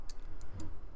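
Three short, bright metallic clicks spaced evenly apart over a low murmur, as a small initialed belt buckle is handled up close.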